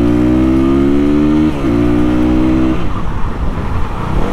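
A motorbike engine revs loud and close, its pitch climbing steadily through two rising pulls with a short dip between, then settling into a rougher, noisier drone.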